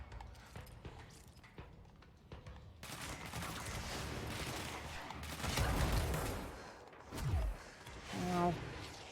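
Rocket launcher fire and explosive impacts from the action game Control come in several heavy bursts of booms and rumbling blasts, rising and falling against a busy combat background.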